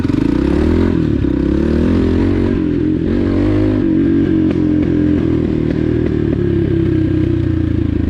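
A Dakar 250 (CRF 250) enduro motorcycle engine revs loudly and close up, its pitch rising and falling with throttle blips over a continuous idle, with some mechanical clatter.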